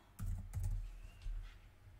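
Quick bursts of typing on a computer keyboard, close and fairly quiet, two short runs of keystrokes separated by a brief pause, with no voices.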